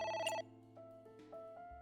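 Brief electronic phone ring from the video game Ai: The Somnium Files, one sharp burst of bell tone followed by softer sustained game tones, faint overall.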